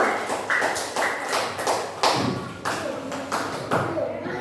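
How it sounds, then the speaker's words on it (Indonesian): A classroom group claps for classmates in a series of sharp, irregular bursts and taps, close and uneven in rhythm, with voices mixed in. "Tepuk tangan untuk kelompok 1 mutualisme."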